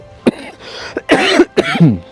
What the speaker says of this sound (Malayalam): ചുമയുണ്ട്.